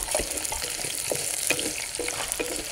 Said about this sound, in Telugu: పది ఎల్లిపాయలు వేసుకొని బాగా వేపుకోవాలి